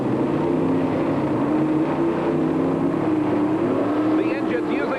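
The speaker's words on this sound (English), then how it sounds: "The engine's using a lot of RPM, leaves the starting line with Leal having the advantage." Pro Stock drag racing cars at the 1987 NHRA Cajun Nationals roar at high RPM off the starting line, a loud, continuous engine drone with shifting pitch and a commentator's voice running over it.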